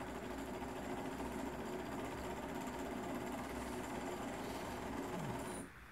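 A small Stirling engine runs at a steady, fast buzzing rhythm around 1500 rpm, constant and mechanical, until it drops away sharply just before the end.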